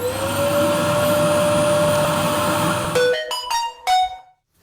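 A vacuum cleaner runs with a loud, steady whine for about three seconds, then cuts out and restarts in a few short bursts before going quiet.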